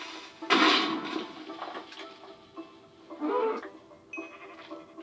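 Two separate moos from a Minecraft cow, each a short bleating call a few seconds apart, fairly close, with quiet gaps between.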